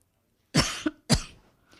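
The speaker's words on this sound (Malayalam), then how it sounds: "നീ എന്താ എപ്പോഴും ഇങ്ങനെ ചുമക്കുന്നത്?" Two sharp, harsh coughs a short pause apart, close and fairly loud, with quiet in between and no talking.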